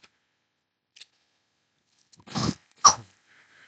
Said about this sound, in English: Coughing, hold on.